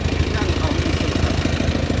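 An Isuzu diesel engine on a Thai twin-axle farm truck runs steadily at close range, a rhythmic low chugging throb that continues without a break.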